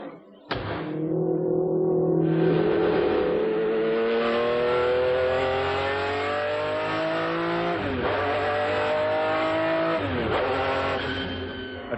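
A 1995 McLaren F1 GTR race car drives hard, its engine roaring loudly and continuously as it climbs through the revs, with two brief dips around gear changes before pulling again, close and dominant throughout.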